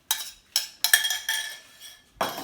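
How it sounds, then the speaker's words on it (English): Spoon scraping yeast from the side of a mixing bowl after milk is added, heard as four short separate scrapes and clinks, close and fairly quiet, with no talk. "scrape out the yeast that's clung to the side"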